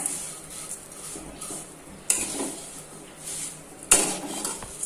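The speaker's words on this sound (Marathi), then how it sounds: "आपण जसं शेवयाची खीर करायला कसं भाजतो त्याचप्रमाणे भाजून घेणार आहोत" Vermicelli roasting in ghee in a pan gives soft scraping stir strokes, a faint background hiss and two sharper metallic clinks.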